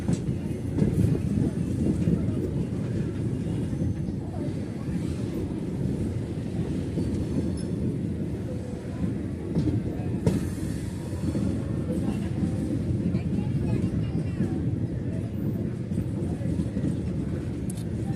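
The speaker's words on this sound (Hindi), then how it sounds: "बाईपास लाइन पे गुड्स ट्रेन खड़ी हुई है।" A goods train on a railway bypass line linking the Fatehabad and Ratlam lines, a continuous rumbling roll of wagons with faint wheel clatter and a brief squeal, heard at moderate distance with no speech.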